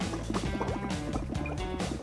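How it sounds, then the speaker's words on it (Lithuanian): Exhaled breath blown through a tube into a container of water, giving a steady, continuous bubbling gurgle at close range for the whole stretch, with no voices. "Tai galime paspartinti, tiesiog burbuliuojant iškvėptą CO2 per vandenį."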